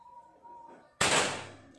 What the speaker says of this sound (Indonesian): Kita coba untuk tes akurasi jarak tembak 25 meter, nembak lubang.